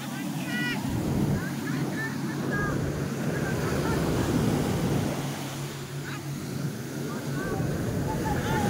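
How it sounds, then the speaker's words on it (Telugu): Ocean waves rolling onto a Goa beach make a continuous rushing wash with wind buffeting the microphone, while distant voices and faint chatter sit underneath. "అలలు అలలు అలలు."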